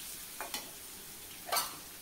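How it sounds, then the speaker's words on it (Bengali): Potatoes dropped into hot oil with a pinch of salt hiss with a low, even sizzle, broken by a few short stirring scrapes close by. "একটু লবণ দিয়ে আলুগুলো প্রথমে ছেড়ে দিচ্ছি।"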